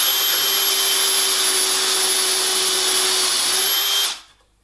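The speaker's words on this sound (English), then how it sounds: "So drilling these 16 millimeter holes, I'm going to have to do this with a Forstner bit." A drill bores a 16 mm hole in wood with a Forstner bit, a loud steady high whine held for about four seconds before winding down and stopping.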